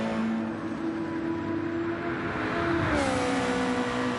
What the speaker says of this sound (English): There's the New Zealand themed Super Formula, the Flying Fern, flies down the start-finish straight to start lap 23 for number 32.